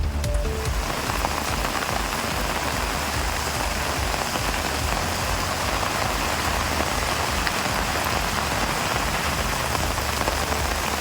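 Heavy rain falls steadily in Theni district, Tamil Nadu, a dense and unbroken hiss of drops drumming on surfaces that stays loud and even throughout, with no voices.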